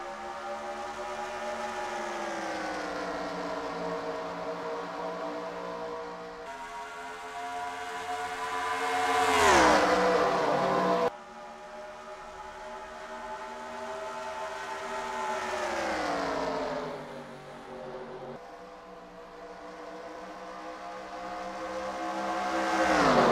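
Race cars roar away at a green flag start at Darlington, a loud continuous engine drone rising and falling in pitch as the pack passes close, with no talk over it.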